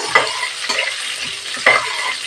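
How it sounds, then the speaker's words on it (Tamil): Green chilies crackling in hot oil, a steady close sizzle broken by a few sharp pops and spatters. "பச்சை மிளகாய் வெடிக்குது அதனால கொஞ்சம் கேர்ஃபுல்லாக இருங்க"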